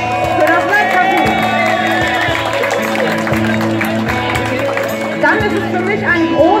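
Crowd applause and scattered cheering beneath loud music at a rock saloon concert, with a voice speaking German over the noise.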